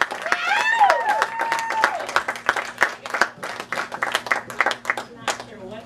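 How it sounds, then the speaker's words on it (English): An audience at a live spoken word poetry event breaks into clapping and cheering to welcome a poet, loud at first with shouts, then settling into scattered claps that gradually thin out. "So I want you to start clapping and welcome LB"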